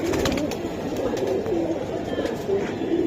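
Red plain pigeons coo steadily and close by, a low rolling murmur from several birds overlapping throughout, with some faint background voices.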